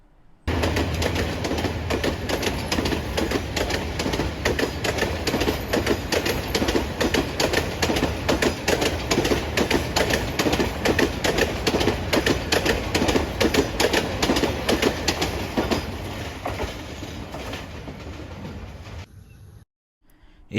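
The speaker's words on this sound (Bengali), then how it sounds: "আমরা দেখতে পাচ্ছি একটি ট্রেন আসতেছে।" A train passes through Bhawal Gazipur railway station, a loud, near rhythmic clatter of wheels over rail joints that runs steadily for most of the span, then fades away at the end.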